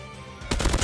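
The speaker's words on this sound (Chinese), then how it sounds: "有枪声" Gunfire in the mobile game Call of Duty Mobile, heard as a sudden loud rapid burst of automatic shots starting halfway through, close and alone.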